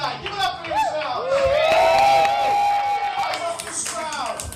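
A comedy club audience claps and cheers for a stand-up comedian, with whoops and shouting voices rising over a steady wash of applause throughout.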